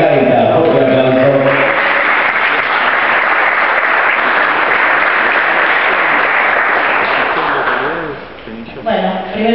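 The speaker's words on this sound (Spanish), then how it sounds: "Fuerte aplauso." Loud, sustained audience applause at a public event in Neuquén, many hands clapping steadily for several seconds before tapering off, followed by a voice starting to speak near the end.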